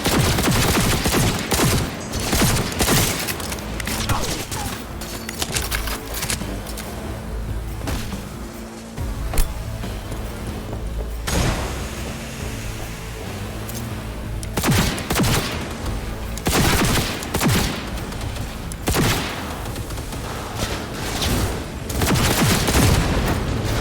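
Sustained gunfire in Cyberpunk 2077, with rapid bursts and loud cracks layered over booms across a chaotic firefight, dense and continuous throughout.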